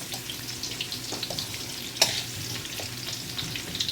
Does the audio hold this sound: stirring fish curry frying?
yes